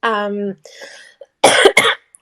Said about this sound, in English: excuse me, I might cough a little bit.